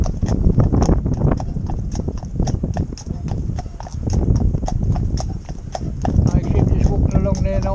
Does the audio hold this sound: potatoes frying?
no